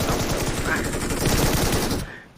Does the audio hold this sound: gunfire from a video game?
yes